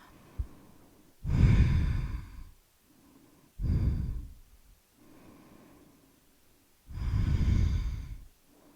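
Heavy breathing during a circuit, core and stretch workout: three long, loud exhales with fainter inhales between them, spaced a few seconds apart, with no talking.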